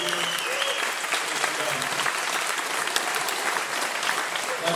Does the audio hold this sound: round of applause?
yes